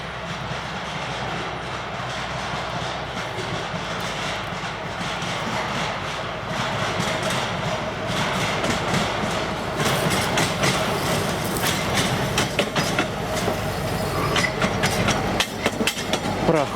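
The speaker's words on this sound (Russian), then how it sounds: "Впереди тепловоз." A diesel locomotive rolls past on a narrow-gauge railway in the Komi forest, with a steady engine drone and wheel clatter that grows louder and more rattly toward the end.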